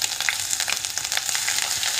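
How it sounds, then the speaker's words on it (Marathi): Ginger-garlic paste and whole spices sauté in hot oil in a pan for a chicken gravy masala. A dense, even sizzle carries on throughout, with small crackles and pops, close up and without talk. "परतून घ्यायचं"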